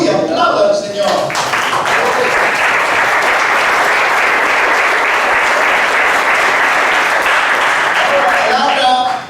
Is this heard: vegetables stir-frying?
no